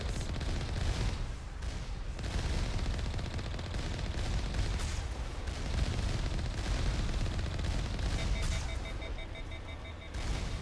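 Sustained, dense gunfire and turret fire fill a combat scene from the video game Mass Effect Legendary Edition. The bursts are loud and continuous throughout, with no talk.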